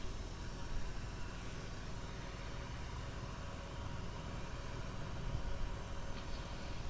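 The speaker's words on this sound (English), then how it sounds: "So again, I'm going to let it run for a while as I check the rest of the vehicle." A 1999 Porsche 911 Cabriolet engine idles steadily, a constant low mechanical hum and rumble that holds even throughout with no voices over it.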